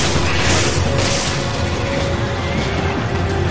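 Booming gunfire from the Resident Evil 5 video game, heavy thuds layered over dense, loud game noise with a steady droning tone beneath.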